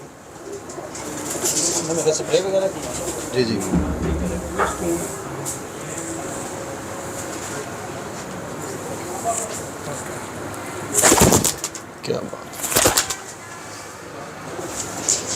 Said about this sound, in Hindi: जहाँ भी जो कबूतर उड़ रहे हैं